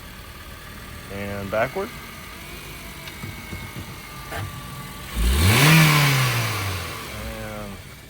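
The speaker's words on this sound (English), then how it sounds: "2007 Honda Civic. Add the key on it, started up with a jump, moving it forward" A 2007 Honda Civic with a stick shift, a flat tire and loose bumper trim idles after a jump start, then revs loudly once as it is moved; an auctioneer talks throughout.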